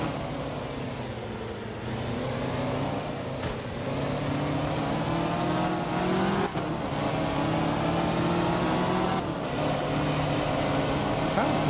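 A powerful rally car engine in Art of Rally drones steadily, rising and falling in pitch through several shifts, loud and continuous with no voices over it.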